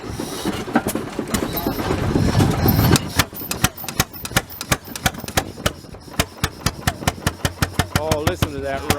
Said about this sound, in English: here we see Gary's little 8 horsepower Bessemer